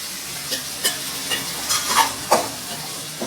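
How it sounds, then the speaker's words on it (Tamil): Green turkey berries are sautéed in a pan with tomato for a South Indian kuzhambu. A steady close sizzle runs throughout, broken by frequent scraping stirs of the spatula. "சொந்தக்காய் போட்டு நல்லா வதக்கிடுங்க"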